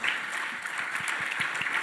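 A seated audience applauds a sports panel at a conference, the clapping broad and steady from start to end at moderate volume, with no voices rising above it.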